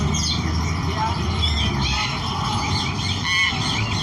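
A myna chatters and calls loudly without pause, mixing shrill whistles with speech-like mimicked sounds.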